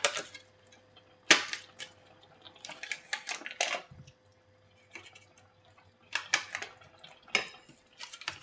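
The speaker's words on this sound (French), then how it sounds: "dans une poêle, je vais faire chauffer du beurre." A frying pan handled on a stove as butter heats, giving scattered metallic clanks and clicks of pan and utensils in a quiet kitchen, with pauses between bursts.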